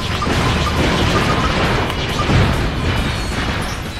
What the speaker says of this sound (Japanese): 爆発してる。